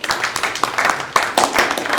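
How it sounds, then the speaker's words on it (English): A small audience at an arts business talk claps briefly, sparse individual hand claps with uneven rhythm, close and fairly loud, lasting about two seconds. "clap for the IFC."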